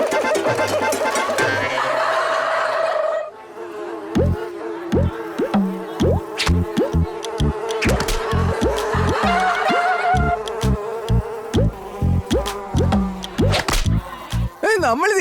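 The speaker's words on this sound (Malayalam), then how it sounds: "കണ്ടാ തോന്നുന്നു ഈച്ചകളാണ് ഈ കടയുടെ മുതലാളികളെന്ന്" Cartoon flies buzz loudly around a sweet shop, a persistent droning whine broken by sharp slaps and smacks repeating through the scene.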